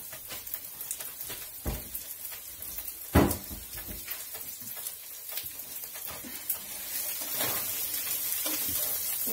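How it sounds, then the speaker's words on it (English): Sausage and spaghetti ingredients sizzle in a pan as they are stirred, giving a soft, steady frying hiss with occasional scraping knocks and one sharper clank partway through. "I'm going to stir these around"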